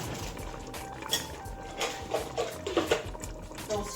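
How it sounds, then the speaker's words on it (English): Water is poured over chickpeas in a cooking pot, a soft splashing trickle with light clinks of the pot, heard in a home kitchen. "we're going to add enough water just to cover"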